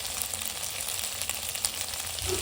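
Okra fries in a pan with a steady, bright hiss and crackle at close range, continuous and evenly loud throughout, with no talking.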